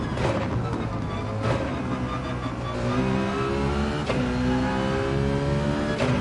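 Citroen race car in a racing video game, the engine droning and revving up through gears with rising and falling pitch, moderately loud, no speech.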